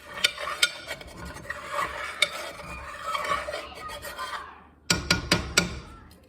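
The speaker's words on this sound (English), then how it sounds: "Sometimes use a spoon to make sure you're getting out those corners." A spoon scrapes and stirs around the corners of a pan while banana pudding is made from scratch, a steady rasping scrape followed after a brief pause by several sharp clinks, close and with no talking.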